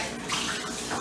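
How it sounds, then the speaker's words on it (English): Faucet water pours into a kitchen sink while hands are washed, a brief steady nearby splash and hiss with no voices. "Put this in the sink, get this out the way, and wash my hands off real quick."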